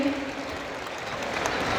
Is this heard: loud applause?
yes